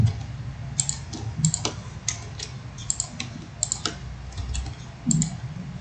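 Sharp clicks of computer keyboard keys being pressed during work in Autodesk Maya, a quick irregular series of light taps, close and fairly quiet, with no talking.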